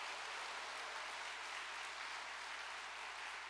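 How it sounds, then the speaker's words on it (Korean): Church congregation applauding in a large hall, a distant, even hiss of many hands clapping at once, continuous and fairly faint. "결단과 결의의 박수를 한번 보내주시면 감사하겠습니다"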